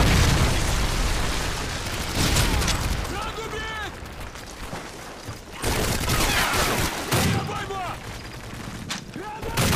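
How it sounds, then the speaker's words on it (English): A predator missile strike explodes in Modern Warfare 3, with loud booming blasts and bursts of gunfire layered over constant game noise and voices. "Predator missile inbound."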